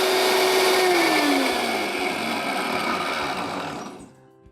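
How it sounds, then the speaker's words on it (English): A loud Vitamix E320 blender runs at high speed, its motor pitch dipping slightly, then it shuts off and fades quickly into near silence. "And that is a very loud blender."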